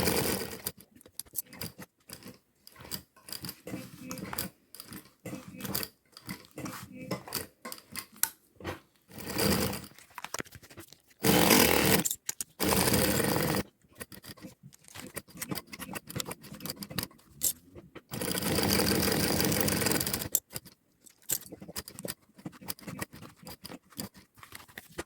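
A sewing machine stitches a crystal plastic book cover in short, bursty runs, starting and stopping, then running longer and faster. The clicking hum is close, with small handling noises between runs.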